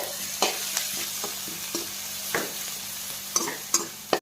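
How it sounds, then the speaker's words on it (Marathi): Onion and capsicum stir-fry in a pan for homemade momo filling, a constant close sizzle broken by repeated scraping strokes of a spatula and a few sharp clinks against the pan. "आता शिमला मिरची चांगली भाजून घेऊया आपण"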